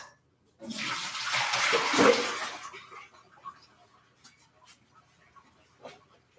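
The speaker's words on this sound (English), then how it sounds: "I'm going to pour out my hot water" Hot water is poured out of a container in a steady splashing gush lasting about two seconds, then trails off into a few faint drips and small clinks in a quiet room.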